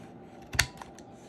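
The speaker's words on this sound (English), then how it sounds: "every once in a while my corner thing does not want to cut right." Paper corner rounder punch clipping a paper corner: one sharp, close snip followed by a faint second click.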